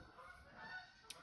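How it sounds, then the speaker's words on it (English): Several geese honk overhead, the calls fairly faint and mingled, passing through in a short burst over a steady outdoor hiss. "I don't know if you can hear those geese flying through right now."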